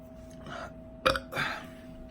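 A single short burp right after eating Bhut Jolokia ghost pepper chocolate, a brief throaty burst at mid-clip followed by a softer breathy exhale over a quiet steady hum.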